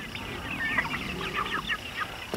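Chickens cluck softly in a dirt pen, a few short, scattered clucks and murmurs nearby against quiet background noise, with no talk.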